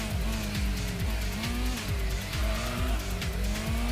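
Engine note from a front-engine, rear-wheel-drive car in Gran Turismo on PS1, with a sustained drone and repeated sweeping gear-shift pitch drops, plus recurring tire squeal through corners, steady and loud with no talking.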